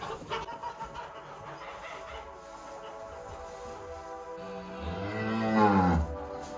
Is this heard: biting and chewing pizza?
no